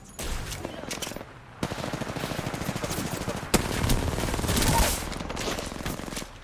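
Automatic and single gunfire from a Call of Duty: Warzone match, dense rattling bursts running almost throughout, with a sharp loud crack midway and heavier volleys toward the end, mixed with game effects.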